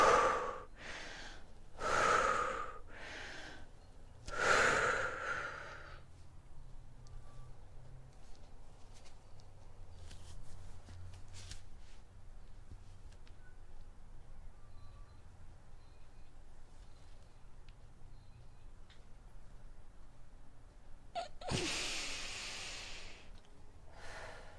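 Forceful Nauli yoga breaths taken while bent over, a few loud, close sharp exhales and snorting gasps in the opening seconds, then a long quiet stretch of faint room hiss before one more strong breath burst near the end.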